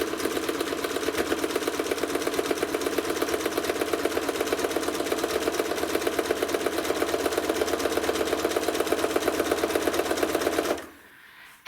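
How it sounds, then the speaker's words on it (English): A quilting sewing machine, slowed down with the pedal pressed fully, stitches in a fast, even mechanical rattle of rapid needle strokes that holds steady and loud for about eleven seconds before stopping abruptly. "So I'm slowing the machine down, so I will still put my foot pedal all the way to the ground."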